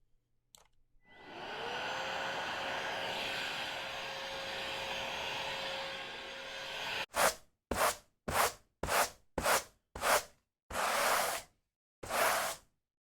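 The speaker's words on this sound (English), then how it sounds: "See, guys, the hoovering, the sweeping" A vacuum cleaner drones steadily for several seconds with a rising whine, then shuts off and gives way to a run of short, rhythmic sweeping swishes across a floor, each stroke separated by brief pauses.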